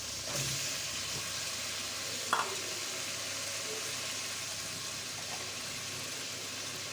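Pieces of taro tossed into a pan of frying snakehead fish, a steady hissing sizzle throughout with a small clatter as something drops in, close and fairly quiet.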